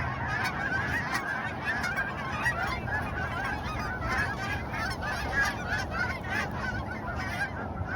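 Many geese honking continuously together, a dense chorus of overlapping calls at steady loudness.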